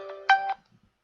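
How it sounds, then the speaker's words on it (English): A mobile phone rings with a short, loud electronic tone burst lasting about half a second, alone and close, then cuts off into near silence. "who calling my phone, man?"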